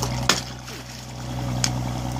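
Fish in a floating fish cage snap at fresh bait, giving two sharp splashy pops about a second apart over a constant low mechanical hum.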